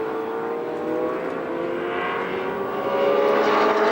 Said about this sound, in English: George Fury coming up to put a lap on those two cars as they make their way to the bottom bend.